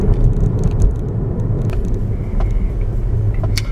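Steady low interior road rumble inside a Tesla driving west on a road with Autopilot engaged, a continuous broadband hum with faint higher ticks and no speech.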